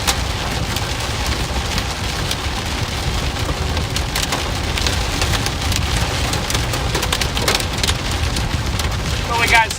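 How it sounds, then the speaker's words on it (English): Small pea-sized hailstones strike window glass during a supercell storm in Joplin, Missouri. They make a dense, continuous patter of close, sharp taps that stays steady for about ten seconds with no pause. "we got some nice little pea-sized hailstones here hitting the windows now"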